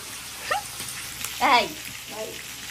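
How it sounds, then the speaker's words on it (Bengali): Fish sizzling as it fries in a pan, a constant crackling hiss running beneath brief bursts of a voice nearby. "আর মাছ ভাজা"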